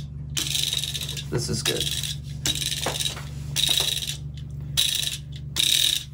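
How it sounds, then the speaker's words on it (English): A Midori mini desktop sweeper rolling over a desk to clean up paper scraps, giving repeated bursts of rattling, whirring clicks in short passes with pauses, close up, with brief talk between passes. "Nice work, mini sweeper."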